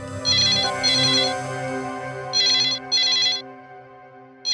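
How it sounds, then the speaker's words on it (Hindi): A telephone rings in repeated double bursts of a bright electronic trill over a low, sustained musical drone, loud and close. "शायद किडनैपर का फोन होगा"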